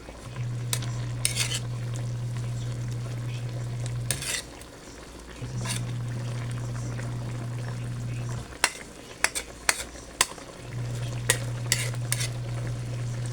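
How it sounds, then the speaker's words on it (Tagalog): Vegetables cook in coconut milk for ginataang gulay with tinapa as a utensil stirs the pot, giving a steady bubbling sizzle with scattered clinks and scrapes against the pan, close and fairly loud, with no talking. "Haluin natin."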